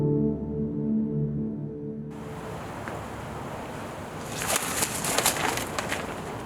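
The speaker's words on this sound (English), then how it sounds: "The birds here are used for education" Birds kept for education coo softly outdoors against a steady wash of wind and surf-like noise, with a burst of fluttering rustles later on.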